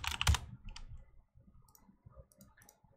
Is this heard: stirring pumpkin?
no